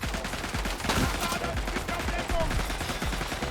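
An enemy machine gun in a video game shooter, sounding as dense, continuous automatic fire with rapid rattling shots at moderate distance, amid chaotic battle noise.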